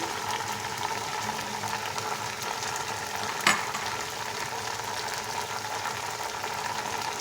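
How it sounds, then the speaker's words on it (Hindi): Tomatoes and green chilies hit a hot pan for chicken pulao, giving a steady, even sizzle throughout with one brief sharp crackle partway through. "अब इसमें डाल देते हैं टमाटर, हरी मिर्चें"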